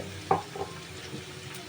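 Onions frying in a pan with green chillies and ginger-garlic paste, a soft steady sizzle with a couple of brief stirring clinks near the start, quiet and close.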